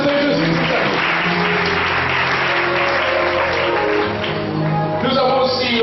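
An audience at a Christian Bible school graduation ceremony claps steadily and loudly throughout, a dense sustained applause with a voice briefly heard over it.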